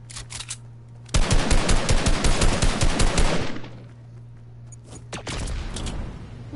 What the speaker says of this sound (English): Fucking minigun, bro.